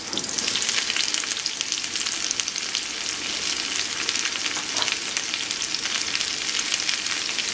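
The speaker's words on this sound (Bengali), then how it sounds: "একটু নেড়ে দিচ্ছি। এবার অ্যাড করছি সেই কেটে রাখা বাঁধাকপিটা।" Cut cabbage fries in a hot pan and is stirred, giving a loud, steady, crackling sizzle that runs without a break from start to finish, with no talking.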